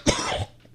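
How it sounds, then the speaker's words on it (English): A single sharp cough bursts out up close, with a brief raspy tail trailing off into quiet. "I literally try to hold back a cough"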